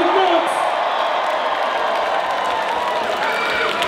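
A concert crowd at a London Brixton hip-hop show roars with cheers, whoops and clapping. The dense, loud wash of noise continues steadily throughout, with a voice faintly mixed in.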